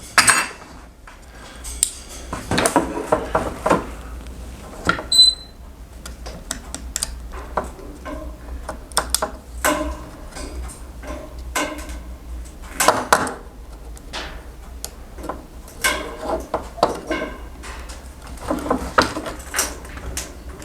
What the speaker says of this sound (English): I think I'm gonna just scratch the top end off.